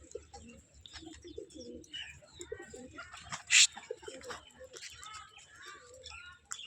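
Pigeons coo and flutter close by amid chirps and rustling, with someone speaking over the birds and one sharp loud click partway through.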